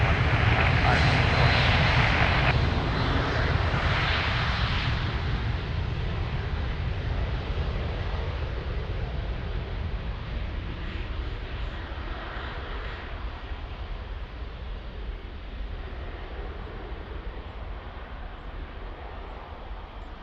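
Airliner taking off from runway 02 at Lisbon Airport, its jet engines a loud, continuous roar that slowly fades as the aircraft departs, with faint radio chatter from the tower.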